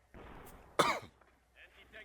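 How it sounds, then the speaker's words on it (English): A single close throat clear followed by a short, sharp cough, then a brief soft sound from the same person. "Please forgive me if I cough a little bit, guys."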